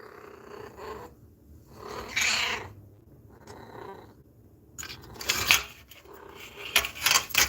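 A cat purrs close to the microphone in uneven bursts, rough rumbling stretches broken by quiet gaps, with louder rustling and fuzzy noise toward the end.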